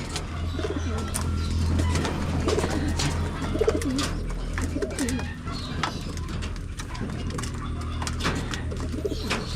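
Pigeons coo softly and repeatedly in a loft, low throaty calls rising and falling over a steady background hum, with occasional chirps and wing flutters and faint voices nearby.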